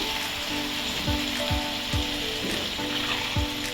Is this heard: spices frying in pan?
yes